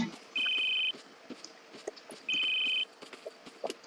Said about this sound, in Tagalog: May tumutunog na cellphone.